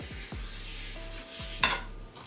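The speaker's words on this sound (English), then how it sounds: "Right now I'm just gonna mix things up until it melts into a nice liquid texture." A spoon stirs ingredients in a pot while baking, scraping and clinking in a few quick strokes over a faint sizzle, with one sharper knock near the end. It is close, with no speech.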